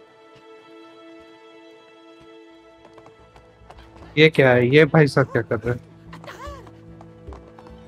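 A horse in the video game It Takes Two gives a sudden run of quick, loud hoof clip-clops that fade toward the end, while people talk before and after.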